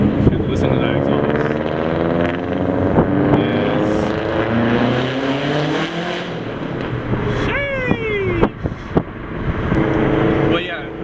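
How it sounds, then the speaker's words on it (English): A 2016 Varis widebody Subaru STI exhaust roars and revs, with rising and falling engine pitch and sharp pops, loud and close, while people talk over it. "listen to that exhaust."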